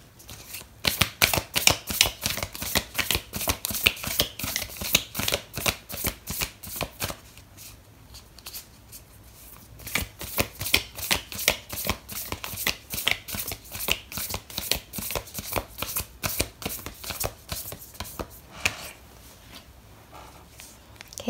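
Oracle cards are shuffled by hand in rapid, steady riffling bursts, close and crisp, with a short pause midway before the shuffling resumes. No one speaks.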